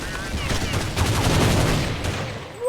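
Rapid gunfire from a Counter-Strike match, a dense run of shots bursting over about three seconds, loud and close, with a faint voice somewhere in the mix.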